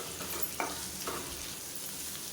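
Onions with mint leaves and salt sauté quietly in a pan, giving a soft, steady sizzle with a few faint stirring scrapes.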